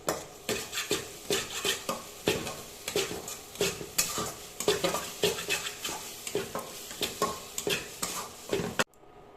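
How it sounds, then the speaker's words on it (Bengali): Spice masala being sautéed in a pan for a Bengali fish dish, a loud close sizzle under rhythmic, repeated stirring scrapes of a spoon against the pan that stop abruptly at the end. "এবার কষতে থাকবে"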